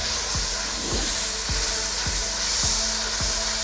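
Chilli spice mix sizzles in hot ghee, a dense, continuous frying hiss with soft periodic clicks or stirring taps underneath, fairly loud and steady with no voices.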